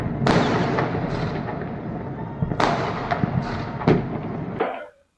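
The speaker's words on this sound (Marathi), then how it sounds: "सो इथे बघा तुम्ही फटाके सुद्धा वाजतात आहे." Fireworks celebrating India's T20 World Cup final win over New Zealand boom and crackle in repeated bursts, roughly four strong blasts with rumbling, crackling tails, fairly close and loud, with no talking.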